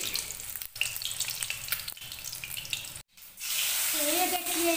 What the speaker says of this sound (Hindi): तो इधर देखिए अंडा फ्राई हो रहा है